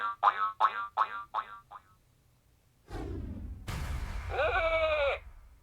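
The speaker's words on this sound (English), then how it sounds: "Put a life trap in the portal to trap this villain." Skylanders Trap Team portal trapping sequence: a quick series of springy boing-like chirps, a pause, then a rising whoosh burst and a warbling, bleating sheep-like cry as the villain is caught, loud and close.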